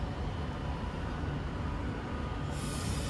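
A train at Stoke-on-Trent station gives off a steady, loud rumbling rush with a sustained hiss, and a high metallic whine or squeal rises sharply near the end, close by on the platform with no talk.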